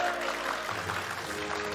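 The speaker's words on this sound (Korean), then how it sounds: "여러분 다시 한번 감사의 박수 부탁드리겠습니다" A studio audience on a Korean government talk programme claps briefly, a short dense burst of applause.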